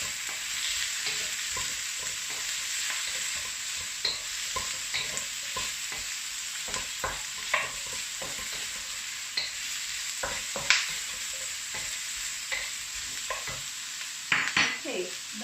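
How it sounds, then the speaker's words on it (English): Drained, dry pork pieces stirred in a sizzling pan, with a steady frying hiss under repeated scraping and clinking strokes of the utensil, close and fairly quiet. "And you stir them together."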